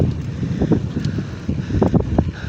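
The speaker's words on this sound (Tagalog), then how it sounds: "sarap ng hangin" Wind buffets the microphone with rough, gusting rumble, mixed with faint outdoor noise, steady and close throughout, at an outdoor spot in Santiago City, Philippines, overlooking distant mountains.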